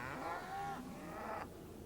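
Cattle at a feedlot moo in two drawn-out, harmonically rich calls, one after another, against a steady low background murmur with no talking.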